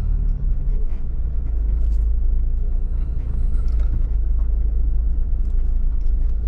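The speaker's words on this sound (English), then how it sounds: "Looks like a works vehicle pulled up." A works vehicle idles and rolls up in a car park, a heavy low engine rumble that holds steady throughout, fairly close, with no one speaking.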